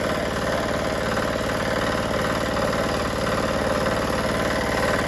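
A farm ATV engine runs steadily after starting, a loud continuous idle with even mechanical knocking and vibration, alone with no talk.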